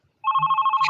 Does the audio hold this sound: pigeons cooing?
no